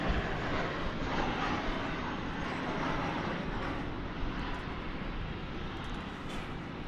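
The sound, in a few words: plane from Los Angeles touching down at DFW Airport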